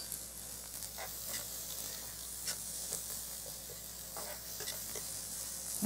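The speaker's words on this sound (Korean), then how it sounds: "양파 채 썰어 놓은 것을 반 개를 넣습니다" Half an onion, sliced into thin strips, hits a hot pan for japchae and gives a continuous, close hiss and sizzle with scattered crackles and light stirring.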